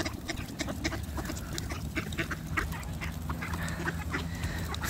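A flock of ducks quacking loudly and continuously close by as they crowd in to be fed in a snowy winter setting, a dense overlapping chorus of honking quacks.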